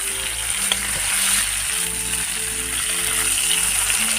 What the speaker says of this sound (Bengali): তো অল্প পরিমাণে তেল দিয়া মাছটি ভাজবাম